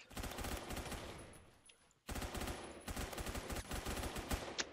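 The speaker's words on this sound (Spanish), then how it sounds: "Este es tan difícil porque dispara a ráfagas y no me gustan las armas a ráfagas" Burst-fire gun in the Roblox shooter Phantom Forces, rapid fire in dense volleys, pausing briefly before a second long run of quick, punchy shots, loud and with no talk.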